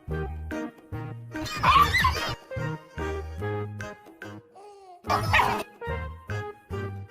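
A dog barks repeatedly in short bursts, with yips and a brief whimper between them, fairly close, alongside some jingling.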